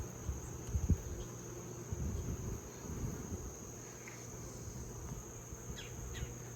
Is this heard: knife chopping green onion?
no